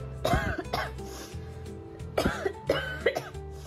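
A woman with a cold and sore throat coughs hard in several harsh bursts, a pair early on and a cluster near the end, close and loud.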